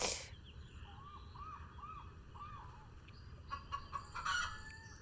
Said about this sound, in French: On dirait le bruit d'une poule